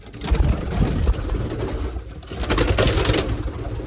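Budapest pigeons coo inside a coop, repeated low throaty calls up close and fairly loud, with faint background rumble and no talking.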